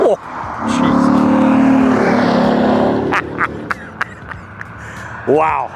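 A 1991 Chevrolet Corvette ZR1, a 3,400-pound car with 375 horsepower, accelerates hard with a loud, steady engine roar that fades after a few seconds. Brief voices and an exclamation cut in near the end.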